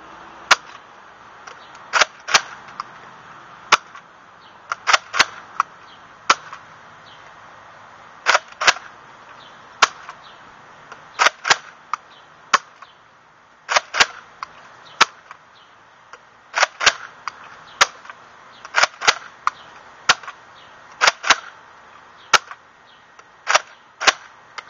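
Nerf Retaliator foam-dart blaster firing in a range test: sharp, loud snapping shots, often in quick pairs with a priming clack, repeated steadily for about twenty seconds against a quiet background.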